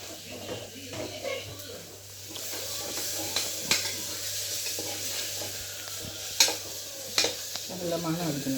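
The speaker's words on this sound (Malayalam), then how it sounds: "അരച്ച് വെച്ച സാധനം എടുത്ത് ഇടണം. എന്നിട്ട് നന്നായിട്ട് ഇളക്കി കൊടുക്കണം." A ground paste sizzles in a hot pan while being stirred, giving a steady frying hiss punctuated by scraping and occasional clinks of the spoon, with some faint talking in the background.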